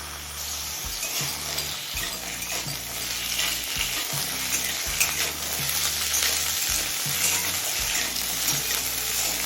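Potato and flat bean pieces frying in a pan with black cumin and dried chilli, a dense continuous sizzle and crackle with low clattering stirs of a spatula throughout, close and steady, with no talking.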